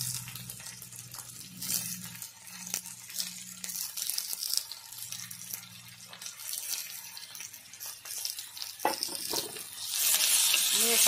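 Onion, ginger, tomato and garlic sautéing in a pan for a prawn masala, a soft continuous sizzle with scraping stirs of a spoon throughout, growing brighter toward the end, with a voice faintly in the background.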